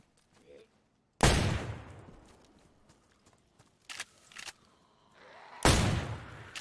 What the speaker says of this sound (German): Hör doch die Schüsse in der Distanz.